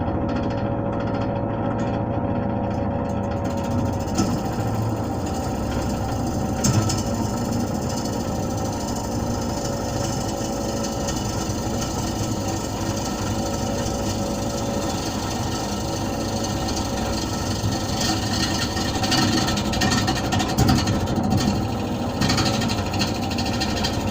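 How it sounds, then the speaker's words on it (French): A jigsaw pre-cuts a glued wooden blank for a turned plate, a continuous loud buzzing and rattling that runs steadily for the whole stretch with slight changes in load. "Et ensuite, place au prédécoupage à la scie sauteuse."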